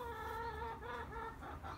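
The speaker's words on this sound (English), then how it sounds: "Excuse the chicken Phoebe wading in with her views." A pet chicken clucks nearby during a barbecue cooking session for a stuffed rotisserie pork belly, a string of short, moderately loud clucks with no speech over them.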